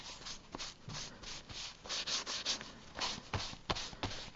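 A nearly dry baby wipe carrying leftover gesso is rubbed across an art journal page, giving soft, close scratchy strokes in an uneven rhythm, with no talking.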